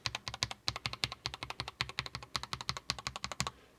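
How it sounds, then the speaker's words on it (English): Quick, evenly paced keystrokes on an NZXT Function Elite Mini TKL keyboard with magnetic switches, a close run of crisp clacks typing out a short sequence of letters, with no voices. "let's do QWERTY first"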